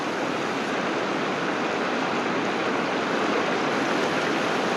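Steady, full-bodied rush of falling water from a waterfall in Alaska, loud and close, continuing without a break and with no voices.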